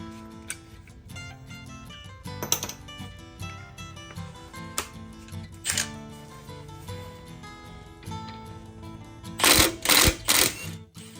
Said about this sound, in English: I'm gonna use 17 millimeter socket to lose these two bolts, pin bolts